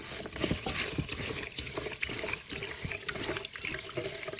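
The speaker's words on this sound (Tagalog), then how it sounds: "Hugasan muna natin yung rice natin." Tap water runs and splashes steadily into a bowl as glutinous rice is rinsed under it, a continuous close gurgling wash with small irregular sloshes and no talk.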